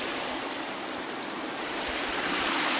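Running water rushes steadily in a soft, constant hiss, flowing slowly through a pond dam spillway in April.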